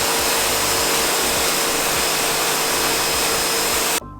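A powerful pressure washer blasts paint off a shop floor, a loud, steady hissing roar of spraying water that holds constant and then cuts off abruptly near the end.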